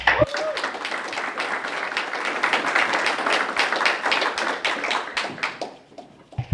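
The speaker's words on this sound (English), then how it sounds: "If we could give them one more round of applause." An audience at a school board meeting gives a sustained round of applause for Arts Honor students. The clapping is loud and dense, holds for about six seconds, then tapers off to a few last claps.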